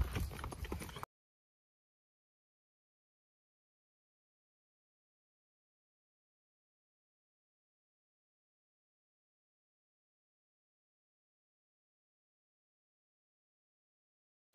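Horse hooves clip-clop in a street procession celebrating Mandhata's birth anniversary. The clatter is brief, about a second of moderately loud hoofbeats, followed by silence.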